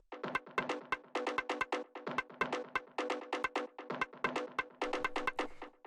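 Layered industrial techno percussion, fast driving hits in a steady, dense repeating pattern, each strike bright and metallic with a short tail, looping without pause and with no voices.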